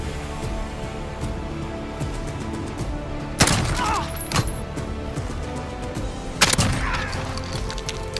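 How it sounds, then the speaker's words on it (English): Shotgun blasts in a video game: two loud, sharp bursts a few seconds apart rise over a steady background of game noise, with a fainter pop between them. "He's using a shotgun, which is the worst part."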